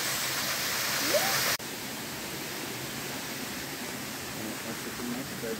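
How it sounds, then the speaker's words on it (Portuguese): A waterfall at an ecological park gives off a loud, steady broadband rush that fills the whole stretch, briefly dipping with a click partway through, with no clear talking over it. "O Wesley já está tentando entrar na cachoeira, mas de roupa e tudo."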